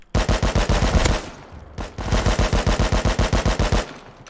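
Rapid bursts of automatic gunfire in the video game Rust, two long volleys of evenly spaced shots separated by a brief pause, loud and close.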